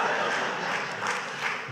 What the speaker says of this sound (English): Oh yeah, I heard the clap.